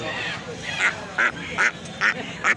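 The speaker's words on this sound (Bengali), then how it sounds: "এখানে হাঁস মুরগি বিক্রি হচ্ছে" Ducks quack in a rural poultry market, five or six loud nasal calls coming at a steady rhythm over a murmur of background crowd noise.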